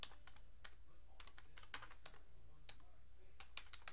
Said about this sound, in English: You can just type a name in there